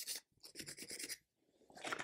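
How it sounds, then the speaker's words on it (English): Sandpaper rubbed along a line on a model diorama: close, quiet rasping strokes in two short bursts separated by a brief pause. "Sandpaper, just to help reinforce that line a little bit."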